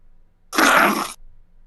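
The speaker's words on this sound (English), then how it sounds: "Somebody sneezed." A single sharp sneeze lasting about half a second, close and loud, breaking an otherwise quiet moment during a fantasy football show.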